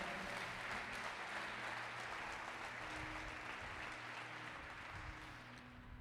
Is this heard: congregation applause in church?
yes